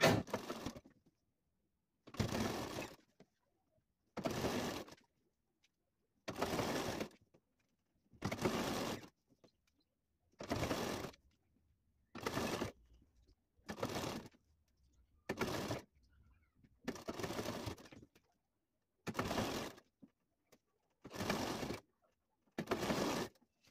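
Electric sewing machine stitching the folded edge of piping for a Sabyasachi-style blouse, running in about eleven short bursts of steady whirring separated by brief pauses, close and clear with no talk.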